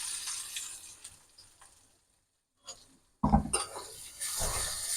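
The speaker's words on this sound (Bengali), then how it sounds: "এখন দিয়ে দিচ্ছি এই তেলটার মধ্যে যে রসুনটা পোলে রেখেছি দুই কোয়া রসুন পোলা দিয়ে দিচ্ছি দিয়ে দিচ্ছি পেঁয়াজগুলো" Onions hit hot oil already holding fried garlic: faint scraping and stirring come first, then a sudden loud sizzle bursts out and keeps crackling steadily close by.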